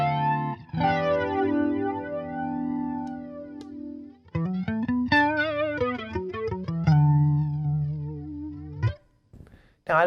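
Electric guitar run through a flanger pedal into a Fender Princeton Reverb ToneMaster amp, playing sustained chords and single-note phrases with a sweeping, whooshing jet-like modulation, loud and close with brief pauses between phrases.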